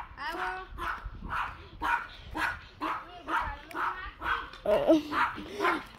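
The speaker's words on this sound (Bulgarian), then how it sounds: "Тук има куче, игнорирайте го отново." A dog on an outdoor walk barks in a steady run of loud, close yips and barks, roughly twice a second, with occasional whimpering tones throughout.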